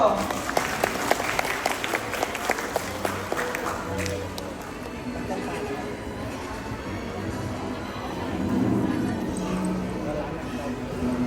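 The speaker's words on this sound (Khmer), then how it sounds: "សូមសម្លេងអបអរសាទរ" A crowd applauds at a 2025 graduation ceremony, loud, rapid clapping from many hands for the first few seconds, then tapering into softer scattered claps and crowd murmur, with a voice heard near the end.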